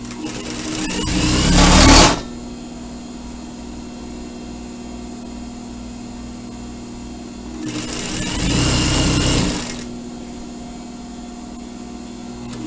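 A sewing machine stitches a seam on a surgical scrub cap in two short bursts, loud and close, each a couple of seconds long, with a steady low hum from the machine in between.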